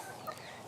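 Roundhead gamefowl rooster giving a short, soft cluck at close range, a single brief call over a quiet background.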